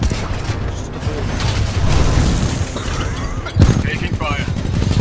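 Explosion and heavy combat in a Titanfall 2 firefight, with dense gunfire and booms throughout and a sharp blast near the end. A voice is heard speaking during the fighting.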